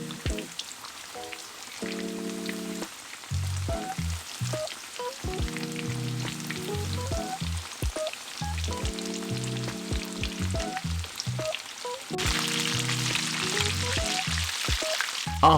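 Karaage chicken sizzles and crackles steadily in hot oil, a continuous hiss running beneath a light musical backing.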